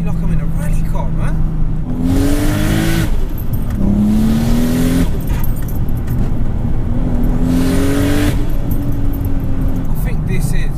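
A powerful 535 bhp turbocharged VW Golf R32 engine roars and revs up repeatedly, pitch climbing through gear shifts, loud and close throughout.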